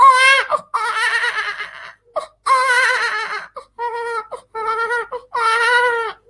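A man imitates a crying infant with his voice, producing a series of loud, wailing, hiccupping cries in separate bursts close to the microphone.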